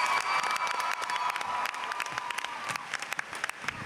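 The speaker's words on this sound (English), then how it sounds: "can we get one more round of applause for our finalists here?" A convention crowd at Comic Con gives a sustained round of clapping for the finalists. The applause is dense and steady throughout, with scattered louder claps and no voices.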